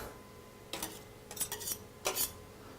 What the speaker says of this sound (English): Scrape those bits out.